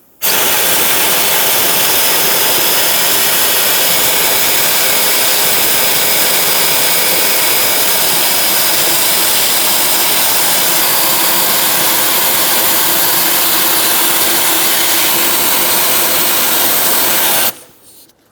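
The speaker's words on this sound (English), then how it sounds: "I'm going to use a vacuum and vacuum up any debris that's sitting in this valley." Shop vacuum roaring loud and steady as it sucks debris from the engine valley of a 2014-2018 Chevrolet Silverado 1500 5.3L V8, running alone for about seventeen seconds before cutting off.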